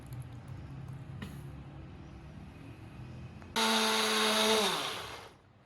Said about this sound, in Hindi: पुदीना ग्राइंड हो चुका है।